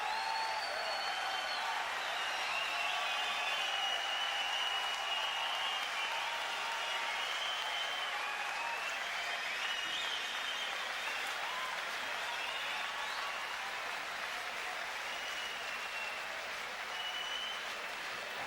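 A boxing arena crowd applauds and cheers after a fight ends, a dense sustained wash of clapping and roaring that holds steady for the whole stretch, with no clear voice above it.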